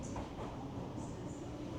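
A London Underground Central Line train rumbles steadily throughout, a dense, continuous low roar with faint high squeals drifting above, heard from inside the carriage with no talk.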